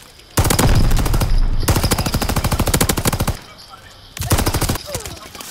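Nambu machine gun in Call of Duty: Vanguard fires loud, rapid sustained bursts, three long strings of rounds separated by short pauses, close and dominant with no talking.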